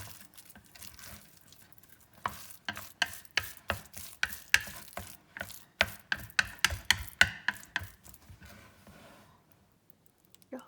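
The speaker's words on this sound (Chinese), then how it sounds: "顺着顺时针的方向打起劲儿，然后再加一点水，再继续搅拌" Chopsticks beat beef dumpling filling clockwise with added water, a fast run of sharp, close slapping strokes that starts after about two seconds and then trails off, no voices.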